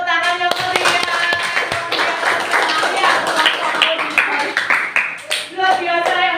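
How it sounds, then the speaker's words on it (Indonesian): A fifth-grade classroom claps enthusiastically after a group presents a food-chain lesson, quick overlapping handclaps mixed with children's voices and cheering, lively and close. "Saya kasih tepuk tangan yang meriah."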